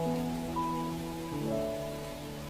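Steady hissing rain in an audio drama scene fills the short stretch, with soft sustained musical tones held over it.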